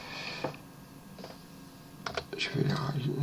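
Keys tapped on a computer keyboard while working in SketchUp, a few scattered clicks and then a quicker burst of light taps, with a soft voice underneath.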